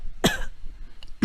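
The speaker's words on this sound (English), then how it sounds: "a nice gentle cough is able to help you to kind of clear up that a little bit" A gentle cough by a voice coach, a soft burst followed by a second short cough about a second later, close and alone.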